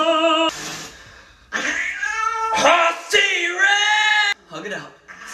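A pet cat meows and caterwauls in long, drawn-out cries, with a person singing along between and over the calls, close and loud.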